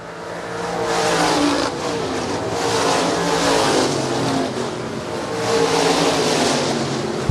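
Stock cars racing on a dirt oval at Shelby County Speedway, engines roaring loud and continuous as a pack surges past, with rising and falling revs and no talk over the din.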